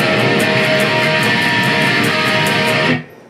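A heavily distorted electric guitar strums the chords of a song in steady repeated strokes, loud and close, before stopping abruptly.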